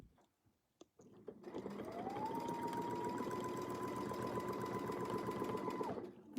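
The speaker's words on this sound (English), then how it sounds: "I just took an extra stitch there to make sure the loop connected" A sewing machine stitches with a Westalee ruler, starting after a few soft clicks and then running as a steady, close, whirring mechanical hum for about five seconds before stopping, with no talking.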